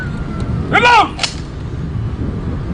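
A rifle volley salute at a military funeral at the National Military Cemetery: one sharp, loud burst of gunfire, with a brief echo and a second fainter crack just after, over a low murmur of outdoor crowd noise.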